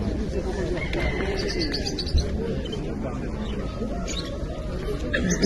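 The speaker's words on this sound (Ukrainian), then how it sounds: "голуби." Pigeons coo and chirp nearby amid a busy coop at a Vinnytsia livestock fair, while people talk over them.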